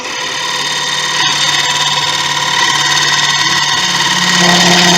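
A wood lathe turning a wooden bowl while a gouge hollows it, a loud, steady tonal machine whine with a faint rasp of cutting underneath that rises slightly in pitch toward the end.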